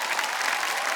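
Studio audience on a TV quiz show, KBC India, clapping in a dense, even burst, loud and close for the whole moment.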